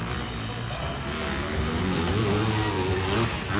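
A racing motorcycle engine roars as the rider pops a wheelie through rough ground, a loud, sustained drone whose pitch wavers and climbs slightly, with no talk over it.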